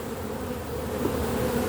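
Disturbed honey bees swarm and buzz around an opened production hive, a dense, steady, close drone with no voices.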